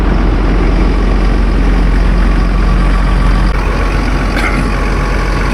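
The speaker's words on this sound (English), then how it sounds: "Now that the engine's running, turn my preheater off, and we're gonna let this thing run for a while, get warmed up." A logging machine's diesel engine idles on a cold winter morning in the woods, giving a steady, loud, unbroken low rumble with no change in pace and no voices.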